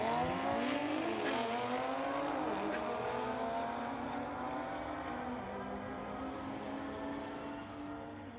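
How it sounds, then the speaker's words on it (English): A Nissan GTR and an Audi run a street-legal drag race at a strip. Rising engine tones climb through the gears and hold a steady, fairly distant roar as the cars pull away, with no clear talk. "GTR versus Audi."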